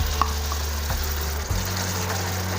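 A yogurt mixture stirred slowly into masala frying in a pan for Kashmiri aloo dum curry, a steady close sizzle with soft stirring scrapes and a few light clinks throughout.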